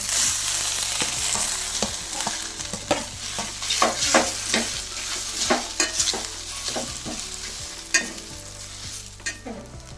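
Patrode sizzles and fries in a pan of tempering while a utensil stirs and scrapes steadily, with repeated clinks throughout.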